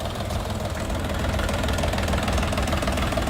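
A small Dongfeng mini tractor engine runs steadily with a rough, knocking idle, loud and close, with no talking.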